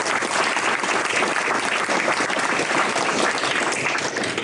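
People at a Deer Park city council meeting applaud in a room, many hands clapping in a dense, steady burst at a fairly loud level, continuing evenly for several seconds.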